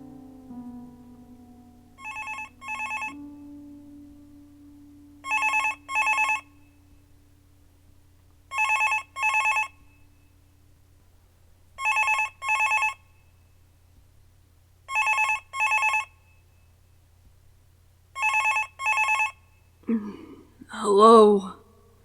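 An old-style telephone bell rings in repeated double bursts, six or seven evenly spaced pairs over a faint low hum, each ring bright and clear, followed at the end by a brief groggy vocal sound.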